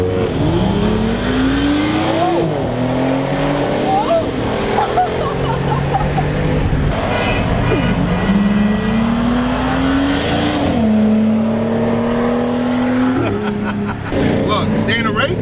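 Nissan GTR cars racing, engines droning loudly and rising in pitch through repeated upshifts across the whole stretch, with people talking and shouting over the noise.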